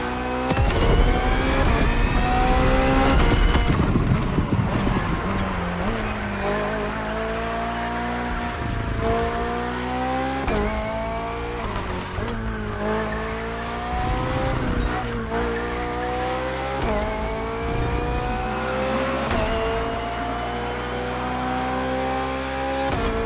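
Racing engine of the BMW Hybrid V8 race car in The Crew Motorfest, loud and continuous, with rising and falling revs through repeated gear shifts, alongside a sustained musical backing.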